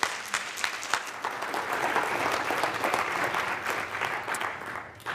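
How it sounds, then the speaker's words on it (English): An audience at a university technology management event applauds a speaker with sustained, even clapping that swells early, holds steady, then thins out near the end. "Let's give him a round of applause."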